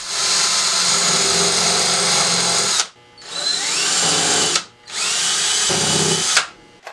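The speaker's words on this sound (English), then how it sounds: "I used a countersink drill bit to pre-drill a few holes." A power drill with a countersink bit whines in three bursts while pre-drilling pilot holes in a cabinet, a long first run then two shorter ones separated by brief pauses, close and loud.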